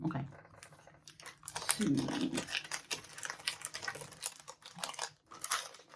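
Crinkly rustling and crackling of craft packaging from a knitting-yarn advent calendar being opened close by, a dense burst of crisp crumpling around the second mark, with soft talk and quieter handling noises throughout.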